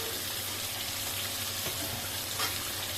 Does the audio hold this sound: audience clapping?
no